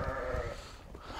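Young female lambs bleat in a short, close call over a low background murmur of the flock.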